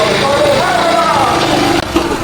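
A restored old Honda Super Cub 50 motorcycle idles close by. Its small engine holds a smooth, steady putter throughout, with a brief dip near the end.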